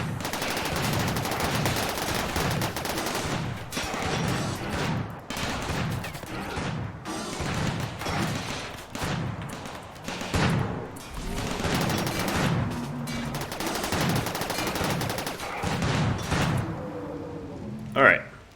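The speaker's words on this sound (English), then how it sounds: "I'm trying to bait out the centipedes to shoot Roman." RimWorld gunfire as colonists shoot at centipedes in a desert map, rapid continuous crackling bursts of shots throughout, dense and fairly loud, with a voice talking over parts of it.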